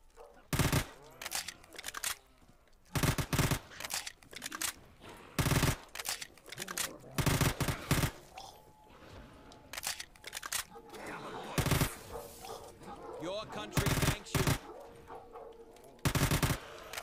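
Repeated bursts of MP5 submachine gun fire in a zombie video game, loud rapid volleys at irregular intervals, with quieter game sounds and some talk between the bursts.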